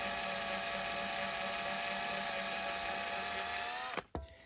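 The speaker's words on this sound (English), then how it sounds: "You can kind of tell when you're drilling." A drill whines steadily at a constant high pitch at low speed as it bores into a die-cast Hot Wheels toy car, then cuts off abruptly near the end with a short clatter.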